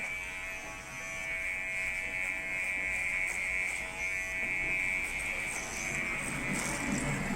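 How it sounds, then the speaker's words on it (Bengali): Electric hair clippers with a number three guard trim the sides of a head during a barbershop haircut, giving a steady close buzzing drone without a break. "তিনের ক্লিপ দিয়ে সাইডটা হালকা করে নেব।"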